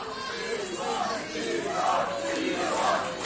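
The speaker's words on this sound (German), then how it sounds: "Das Publikum ist hier alles andere als begeistert" A wrestling crowd at a live bout voicing displeasure, a sustained, loud mass of shouting and jeering voices that swells and dips without pause.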